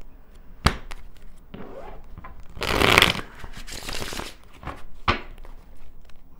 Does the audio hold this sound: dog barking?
no